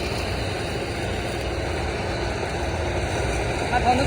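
A tractor engine chugs steadily during the paddy harvest with a low, continuous rumble that carries through the whole stretch, close and fairly loud.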